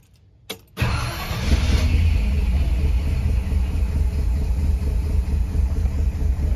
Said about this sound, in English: So feel pretty confident to go ahead and start the engine here.